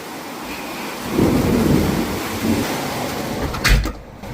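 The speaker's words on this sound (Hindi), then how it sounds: "पूरा पानी आ गया अंदर, इतनी तेज बारिश हो रही है।" Heavy rain hisses steadily while low thunder rumbles through the middle, followed by a brief sharp crack near the end.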